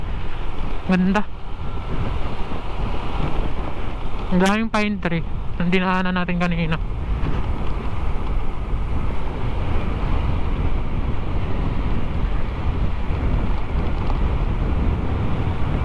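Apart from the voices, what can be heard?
cold wind blowing on mountain ride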